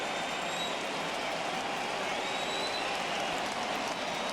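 Stadium crowd cheering in the baseball video game MLB The Show 21, a dense, steady roar of many voices filling the whole stretch without letup.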